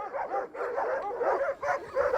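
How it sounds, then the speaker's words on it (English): Aggressive shepherd dogs guarding flocks bark and yelp repeatedly in a fast, overlapping volley, fairly close and continuous, with a whining edge between barks. "The shepherds protect their flocks with dogs like these. They're pretty aggressive, as you can see"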